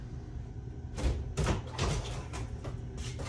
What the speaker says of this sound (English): Just shut that fucking door.